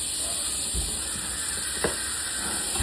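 Onions frying in butter in a pan, a steady sizzle and hiss running throughout with a few soft stirring clinks, close and moderately loud.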